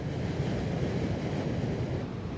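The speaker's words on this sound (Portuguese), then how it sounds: "eu estou aqui numa estação de tratamento de água" Steady, rushing running water at a water treatment plant where river and spring water is treated, a dense, even wash of noise that fills the whole clip with no talking.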